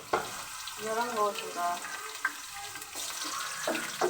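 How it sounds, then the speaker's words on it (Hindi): Onion sizzling as it fries in hot ghee in a pan for matar pulao, a steady crackling hiss with brief spikes, heard under a voice talking. "ये देखिए, प्याज मैंने ऐड कर लिया। देखिए आवाज़ आ रही है"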